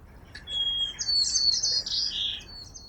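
Small birds chirping and twittering in quick, bright bursts, fairly close and clear over a quiet background.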